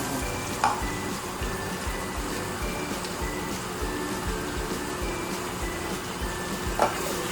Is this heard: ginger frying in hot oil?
yes